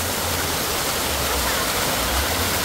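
A waterfall of clear water pours over rocks, making a loud, constant rushing roar that fills the whole stretch without pause.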